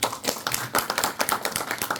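Audience applause at a lecture on Admiral Yi Sun-sin in Yeosu, a room of people clapping in quick irregular bursts, moderately close, steady throughout with no talk over it.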